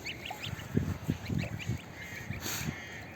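Geese honking and calling near a black goose and its goslings, several short nasal cries in a quick irregular run at moderate loudness, with no voices over them.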